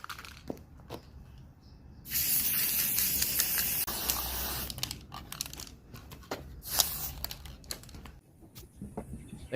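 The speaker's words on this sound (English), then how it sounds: "give it a coat of black spray paint" Black spray paint hisses from an aerosol can onto a custom speaker mount for a 1995 Toyota RAV4, in two close, loud sustained bursts separated by quieter handling noise.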